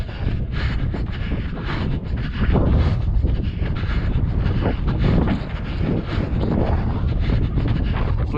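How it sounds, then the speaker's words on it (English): Wind buffets the microphone during an outdoor jog on a breezy, hot day, a loud, continuous low rumble with gusty swells throughout and no talk. "It's a little breezy today"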